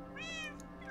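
Cats meowing in the Minecraft video game, a single clear, drawn-out meow rising and falling in pitch at close range, with a faint second meow beginning at the end.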